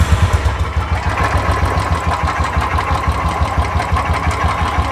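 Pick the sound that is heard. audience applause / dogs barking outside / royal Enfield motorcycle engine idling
royal Enfield motorcycle engine idling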